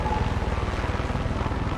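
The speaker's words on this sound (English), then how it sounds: "A helicopter is circling around." Helicopter in the video game Far Cry 6 circling overhead, a steady low rotor throb with a continuous whirring drone that holds level throughout, with no talk.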